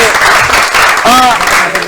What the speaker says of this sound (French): Est-ce qu'on peut applaudir très fort pour l'Institut de la Gombe?